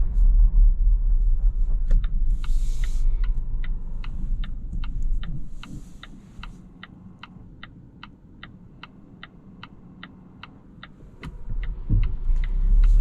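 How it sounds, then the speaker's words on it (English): Massaging seats in a 2022 Volvo V90 Cross Country tick with a steady, evenly spaced ratcheting beneath the low rumble of the moving car. The ticking is clearest once the road noise drops in the middle. "let's turn off the the massaging seats because you can hear them"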